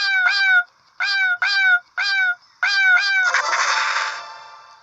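Cats meow in a video game, a series of about seven short, bright, close mews in quick bursts with brief gaps, ending in a noisier, longer cry that fades away.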